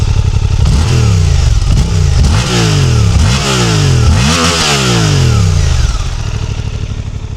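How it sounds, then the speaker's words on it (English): A Suzuki GSX-8TT motorcycle engine revs repeatedly up and down through its exhaust, loud and close, each throttle blip rising and falling before settling to a rough idle. "let me start the bike"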